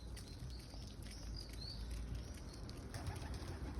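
Two caught pigeons coo softly and faintly against a steady background hiss, with a few short flutter-like sounds and no talking.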